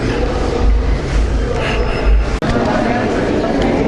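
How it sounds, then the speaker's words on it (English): A train rumbles steadily at a station near Sapa, Vietnam, with deep low-end noise and a brief squeal, while voices murmur close by. "There's the train."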